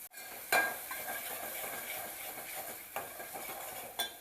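Roasted masala sautéing in oil in a pan for a home-style chicken thali, a soft continuous sizzle broken by a few sharp scrapes and clinks of a spatula against the pan, quiet and close with no talking.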